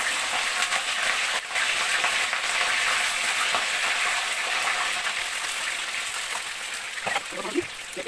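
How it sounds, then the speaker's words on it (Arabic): Potatoes frying in oil: a dense, steady hiss of sizzling that runs unbroken and fairly loud throughout, with a few faint clinks near the end. "نقلي البطاطس"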